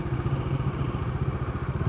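A motorcycle engine, a Dominar 400 ridden on a new road in Mabalacat, with a steady low mid-range rumble and rhythmic pulsing, fairly quiet, alongside other motorcycles.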